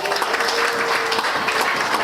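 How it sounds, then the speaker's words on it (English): Round of applause from a public utility district meeting audience welcoming the Vice Council Chair, a steady dense patter of many hands clapping continuously at moderate loudness throughout. "I would like a good round of applause and a welcome for our Vice Council Chair"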